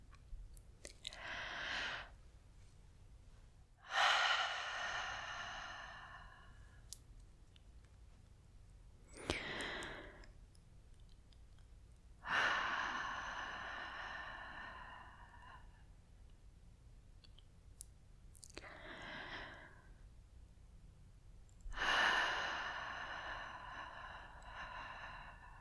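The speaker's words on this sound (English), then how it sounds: "here's one of my personal favorites, which is simply breathing" Slow, close ASMR breathing: a few long, airy inhales and exhales with soft lip clicks and pauses between them, intimate and quiet.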